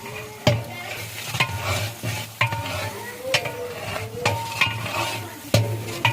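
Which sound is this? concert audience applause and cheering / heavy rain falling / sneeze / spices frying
spices frying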